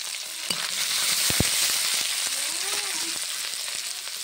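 Sliced onion, garlic and split green chillies sizzle steadily in mustard oil in a kadai, a dense close-up frying hiss with a few utensil knocks and stirring clatter, no talking.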